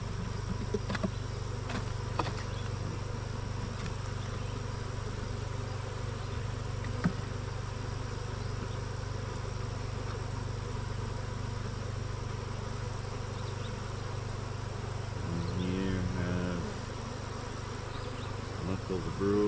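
Honeybees hum in a steady, close drone during a hive inspection, with faint clicks and light handling noises. A brief burst of higher buzzing comes near the end, and no one speaks.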